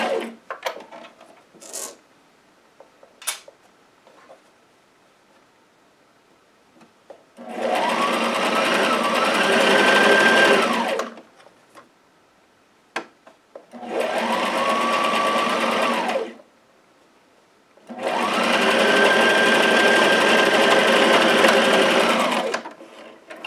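A sewing machine stitches slippery, super stretchy dress fabric in three bursts of fast rattling whir, each a few seconds long, with quiet handling clicks between them.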